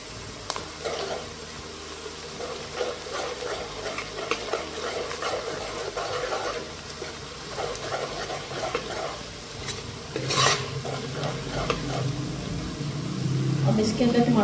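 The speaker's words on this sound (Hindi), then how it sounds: "अदरक लहसुन का पेस्ट डाल देते हैं इसके अंदर" Ginger garlic paste sizzles and fries with sautéed onions in a pan while being stirred for a Punjabi kadhi pakora recipe. A steady crackle continues throughout with scraping stir strokes, and there is no speech.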